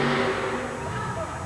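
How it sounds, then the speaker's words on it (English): Supercharged alcohol-burning engine of the Bigfoot monster truck revving at a 1988 USHRA indoor event, a loud continuous engine roar with a dense arena crowd backdrop and a voice over it. "Listen to the sound of that engine, a supercharged alcohol burner."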